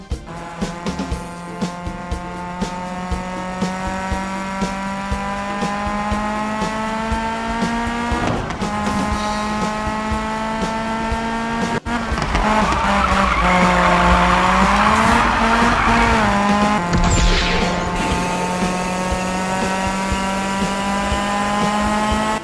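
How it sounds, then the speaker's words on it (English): Race car drifting at high speed, its engine roaring loud and close with rising and falling revs while tires squeal in long sustained skids, building to an intense screech midway, no voices. "That is sure epic intense high-speed drift."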